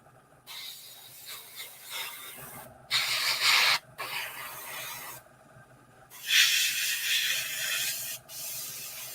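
An airbrush spraying paint in several bursts of hissing of varying length, close and fairly loud, with quiet pauses between them.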